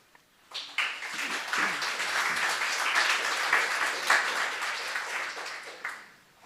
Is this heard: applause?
yes